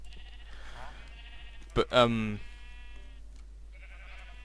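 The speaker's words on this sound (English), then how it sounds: "Oh, and I also made a sheep farm." Minecraft sheep on a player-built sheep farm let out a loud wavering bleat near the middle, with softer bleats before and after, while someone talks over the game.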